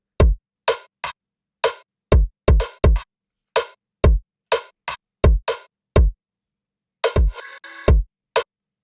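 A sparse drum loop of punchy kick hits with short gaps between them, plus a burst of noisy cymbal or snare near the end.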